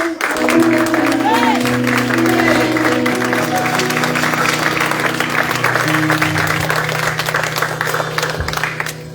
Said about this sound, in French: Mais bien que tu applaudis ça